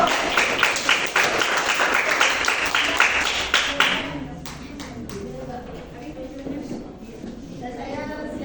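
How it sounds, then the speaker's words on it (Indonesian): A room full of people clap together for several seconds, then the applause thins out into scattered claps while voices murmur. "Tepuk tangan dulu untuk audio."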